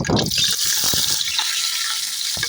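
Whole spices and rampe leaves hit hot ghee in a pan for mutton pulao, giving a bright steady sizzle with a few louder crackles and stirring clatters.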